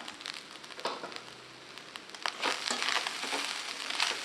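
Cooked parboiled rice being stirred into fried coconut in a pan for coconut rice, with soft crackling, scraping and sizzling that grows busier toward the end, with no voices.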